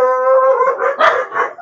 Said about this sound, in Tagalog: Ang ingay na ng mga aso.